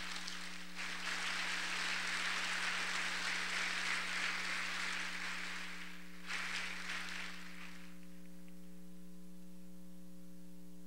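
A church congregation applauds for about six seconds: a dense wash of clapping that briefly dips, surges again, then stops, leaving a low electrical hum.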